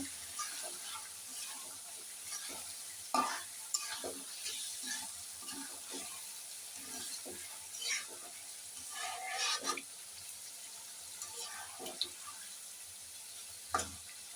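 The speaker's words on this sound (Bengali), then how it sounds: "মাছগুলো দিয়ে একটু নাড়াচাড়া করে মশলার সঙ্গে মিশিয়ে নেব" Pieces of sea fish are turned through spices in a pan, a faint, quiet sizzle with intermittent soft scrapes and clinks of stirring spread across the stretch, heard close and without voices.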